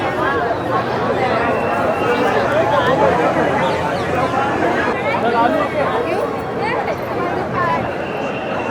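Devotees crowd the grounds of Mahakaleshwar temple in Ujjain, their many voices blending into a steady, close babble of chatter with no single voice standing out.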